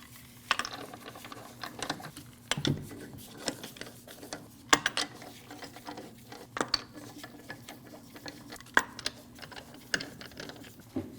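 Hand ratchet snugging the wheel lug nuts on a 2012-2016 Honda CR-V, a series of quick close clicking pawl strokes with small metallic knocks, fairly quiet and with no talking.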